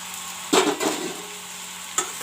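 Potato and fried broccoli being stirred in a frying pan, with two close scraping strokes near the start and a brief clink near the end over a faint steady sizzle.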